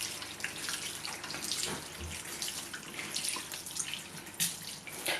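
Tap water runs steadily in a sink, splashing and hissing over a beauty blender sponge, a continuous close wash of water with a brief low thud partway through and no talking.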